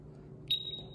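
A Senko MGT gas detector gives a single short, high alarm beep during a low and high alarm check, standing out over a steady low background hum.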